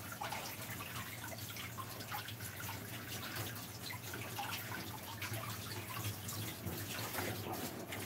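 Running water pours steadily while sweet potatoes are washed under it, a continuous close splashing rush with faint knocks and rubbing, no voices heard.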